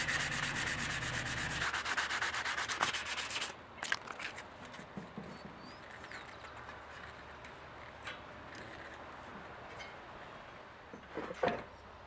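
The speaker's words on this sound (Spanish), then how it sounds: "procedo a lijarla para que quede una buena terminación" Hand sanding of hardened plastic putty on a metal cabinet: a loud, continuous rasping scrub for about three seconds, then softer, intermittent rubbing strokes with occasional taps.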